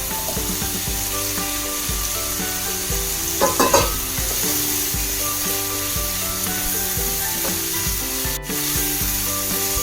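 Ivy gourd (kovakka) sizzles as it sautés in a pan for a Kerala fish curry, with repeated scraping and stirring strokes and a brief clatter midway, close and steady, no voices.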